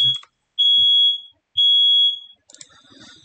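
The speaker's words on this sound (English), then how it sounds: "got a malfunctioning smoke alarm at the moment, which is just great." A malfunctioning smoke alarm gives two loud, shrill beeps, each roughly three-quarters of a second long and evenly spaced, followed by a faint patter of clicks.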